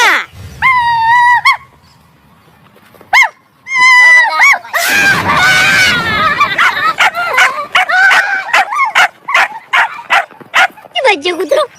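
A puppy yelps and barks in a rapid, high-pitched series of loud, close cries with whimpering yips, broken by a short quiet gap.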